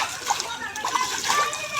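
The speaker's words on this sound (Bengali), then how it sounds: "পরিষ্কার করে ঝিঙেগুলো ধুয়ে নিচ্ছি।" Ridge gourds are washed in water in a home kitchen, with light splashing and trickling, brief sloshes, under a speaking voice.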